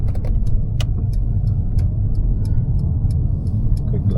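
A car moving off in second gear on a driving test route in Shieldhall, Glasgow, with a steady low engine and road rumble running throughout and faint ticking from the indicator.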